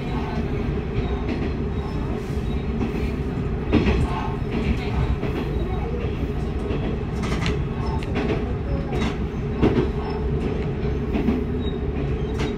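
A Enshu Railway train on the line between Tenryu-Futamata and Nishi-Kajima rumbles steadily along the rails, heard from inside the car as a continuous low roar with occasional clacks and thumps from the wheels.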